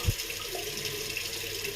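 Tap water runs steadily into a sink while the face is wetted before shaving, a close, even splashing hiss after a brief thump at the start, with no voices.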